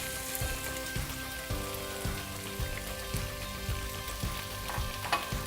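Zucchini noodles are tossed quickly in a hot pan, with a light crackling sizzle and a series of soft, rhythmic knocks as the pan and spoon move, with no talking.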